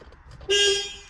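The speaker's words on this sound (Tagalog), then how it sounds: "ayun orig pa yung busina no pipit pa" A Hyundai Getz's original horn gives a single short, bright beep after a moment of quiet engine idle.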